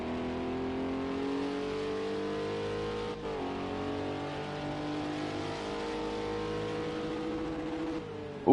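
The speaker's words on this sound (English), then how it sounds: "we're hitting the rev limiter heading down there" Acura GT3 race car engine in a sim racing game at the Nürburgring, held at high revs against the limiter, a steady loud buzzing drone with a brief dip midway and a sharp jolt at the end.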